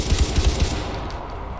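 Weapon fire in the video game Far Cry 4: a quick run of punchy, low, thudding shots in the first half, then fading into a dull background rumble with no talking.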